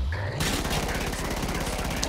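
Medic gun in the video game Killing Floor firing a rapid, continuous burst, loud and close, with no pauses across the short stretch.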